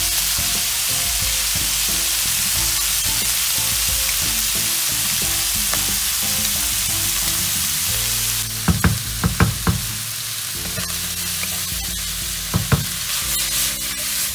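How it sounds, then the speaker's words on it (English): Vegetables for fresh lumpia sauté in a hot pan with a steady, close sizzle, then several sharp utensil scrapes and knocks as they are stirred. "Another minute, saute it, put some salt and pepper to taste."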